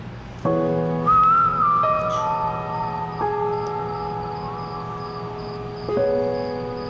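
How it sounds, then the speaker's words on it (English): Melodic whistling, a sustained tune of held notes that shift pitch every second or so, close and clear with no talking. "So who was whistling?"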